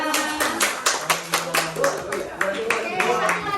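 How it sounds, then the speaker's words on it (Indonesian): Classroom of students clapping their hands in a rapid irregular burst, close and fairly loud, with voices talking and calling out over the clapping. "tepuk tangan aja"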